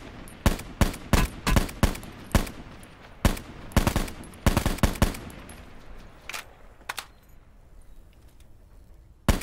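Gunfire in a battle royale video game, a rapid series of loud, sharp shots in uneven bursts, some clustered and some spaced, tapering to sparse single cracks over a faint background.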